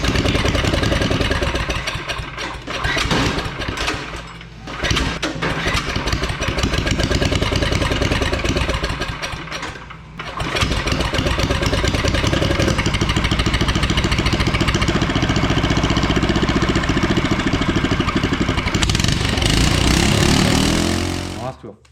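A go-kart engine idling rough and rich on too much fuel, a loud continuous close-up chug that dips twice before smoothing out, then fades at the end.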